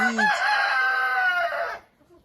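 A turkey hen squats and calls for the tom with a single loud, drawn-out, tonal cry lasting under two seconds, close by, then silence.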